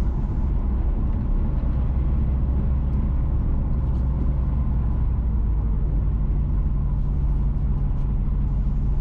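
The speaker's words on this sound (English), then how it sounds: "we're driving north from Moko towards Garlands" A car drives north along a road from Moko toward Garlands in St James, Jamaica, with a steady, close engine and tyre rumble that holds throughout with no one talking.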